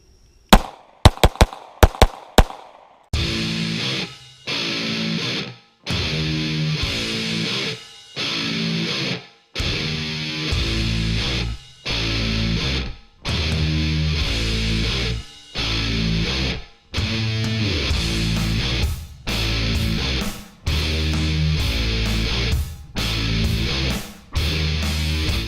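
Shots fired from a Beretta 92 handgun at a range during muzzle brake testing: a few sharp cracks, then a long run of loud, closely spaced blasts repeating in steady bursts.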